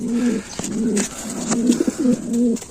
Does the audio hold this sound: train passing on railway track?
no